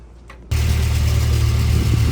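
A Nissan Sentra SE-R engine catches after a faint moment of quiet and settles into a steady, close, low rumbling idle.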